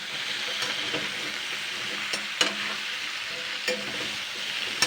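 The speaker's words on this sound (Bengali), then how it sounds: "এবার আমি এইগুলোকে আগে সবার প্রথমে দুই মিনিট মতন ভেজে নেব" Winter vegetables frying in a pan, a steady close hiss of sizzling with occasional sharp clacks and scrapes of stirring, no voices.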